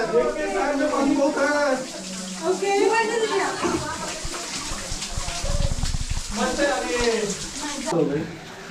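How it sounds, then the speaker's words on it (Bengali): Cold water trickles and drips steadily inside Mawsmai Cave in Cherrapunji, Meghalaya, a continuous wet splashing heard under a voice talking throughout. "এখন কনকনে ঠান্ডা জল, তার উপর থেকে এইভাবে ধীরে ধীরে জল পড়ছে"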